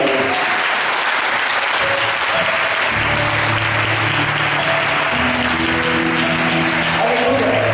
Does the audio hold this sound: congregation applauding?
yes